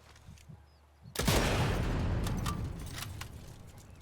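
Machine gun fire in the World War II shooter Sniper Elite 5 erupts suddenly after a quiet moment, a loud sustained burst of rapid shots that slowly tapers off.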